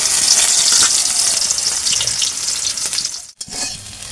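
Soybean chunks, squeezed of water, sizzle and crackle steadily in hot oil, a loud dense frying hiss that eases briefly near the end before resuming.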